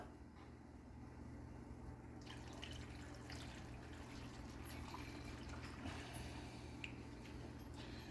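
Water pours into a pan of venison stew, a quiet continuous trickle and splash over steady low kitchen hum, with a few small drips standing out.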